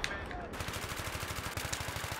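Two tanks trading fire in Battlefield 3 on hardcore mode, a steady rapid rhythm of gunfire and cannon thumps close by, running continuously from start to finish with no one talking.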